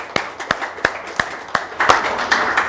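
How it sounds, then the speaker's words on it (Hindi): An audience claps in a steady rhythm during a talk show after a sung line: evenly spaced, sharp claps at about three per second, growing slightly denser toward the end. "जोरदार तालियां।"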